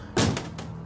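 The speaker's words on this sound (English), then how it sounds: "they were trying to break down the door." Monsters battering at a house's front door: one heavy, booming thud followed by two lighter knocks, close and loud with no voices.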